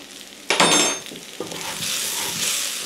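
Mexican-style hash sizzling in a frying pan with ground cumin and smoked paprika, a sudden burst of loud hissing sizzle as the spices go in, settling to a steady, continuous fry.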